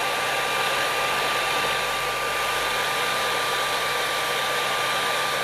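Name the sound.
hair dryer blowing on a flickering screen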